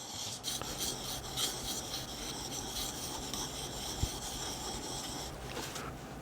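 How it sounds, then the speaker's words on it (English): A woodturning gouge being sharpened by rocking it back and forth on its bevel, a steady close rasping grind that continues evenly throughout with a faint tap midway. "So I just rock it. Shall I feel it on that bevel? And I just rock it back and forth."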